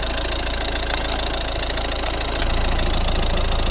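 A 2012 Volvo V50 1.6 D2 diesel engine idling close by, steady rhythmic clatter with a constant low drone, growing slightly louder partway through.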